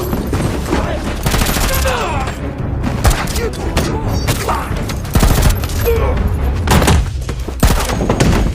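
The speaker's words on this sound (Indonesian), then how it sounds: "Namun di tengah baku tembak, sebuah peluru berhasil merusak senjata Cole." Gunfire erupts during a staircase shootout in an action film, with loud rapid volleys, heavy booms and thuds packed densely together amid the chaotic soundtrack.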